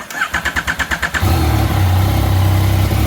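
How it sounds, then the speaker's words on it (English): A 2020 Yamaha MT-09 motorcycle engine cranks with a rapid pulsing starter whir for about a second, then catches and settles into a loud, steady idle close by, with no talking. "I'm gonna go ahead and start up the bike and let it run for 1 minute."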